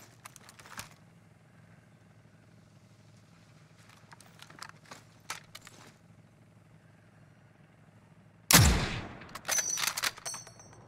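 Gunfire in the video game Warzone, a few sharp shots scattered over a quiet low hum, then a loud close burst near the end followed by more rapid crackling shots.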